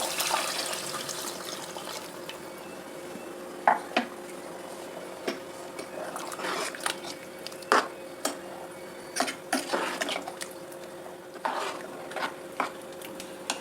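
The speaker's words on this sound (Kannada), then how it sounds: "ಇವಾಗ ನೀರು ಉಪ್ಪು ಎಲ್ಲ ಆ್ಯಡ್ ಮಾಡ್ತಾ ಹೋಗ್ತೀನಿ ಸ್ವಲ್ಪ ನೀರು ಹಾಕ್ತೀನಿ ಇವಾಗ" Water and salt go into fried masala in a pot for a hitakavare (field bean) saaru, with light scraping stirs and soft clinks of a utensil against the pot, intermittent and close, with no talking.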